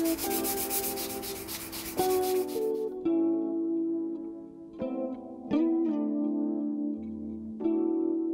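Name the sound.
sanding body filler on Volvo 480 Turbo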